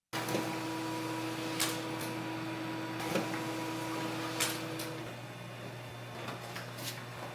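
A sublimation printer, a converted iColor 560, runs with a steady mechanical hum, broken by periodic clicks and soft thumps as it works.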